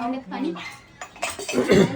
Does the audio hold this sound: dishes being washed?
yes